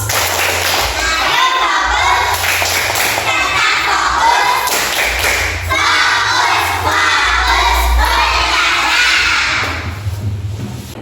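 A class of children performs a rhythmic focus clap, with loud patterned claps and thumps mixed with chanting young voices, busy and close throughout.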